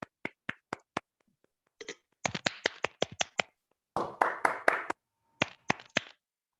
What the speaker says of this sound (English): Can we please keep the applause going for our distinguished general evaluator